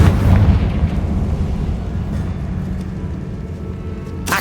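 Confringo blasting spell in the Hogwarts Legacy video game: a loud, deep explosive boom at the start that rolls into a long rumbling decay with faint crackles, no voices.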